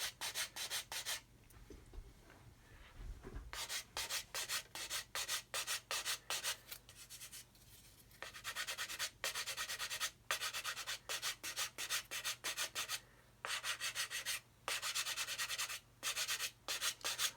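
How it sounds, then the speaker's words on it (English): Grey plastic on an Airfix 1/72 Vulcan model kit being sanded by hand, a quiet, close scratchy rubbing in quick repeated back-and-forth strokes with brief pauses between bursts. "I'm just going to keep sanding till we can see the grey plastic on both sides"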